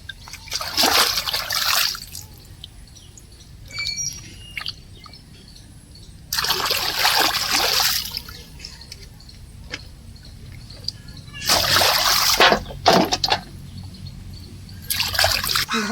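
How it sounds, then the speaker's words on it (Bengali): Freshly picked garden vegetables are rinsed in a pond, giving three or four loud bursts of splashing and sloshing water separated by quieter stretches with soft trickles and ticks, up close, with no talking. "গাছে থেকে সবজি তুলে পুকুর থেকে ভালো করে ধুয়ে নিচ্ছে"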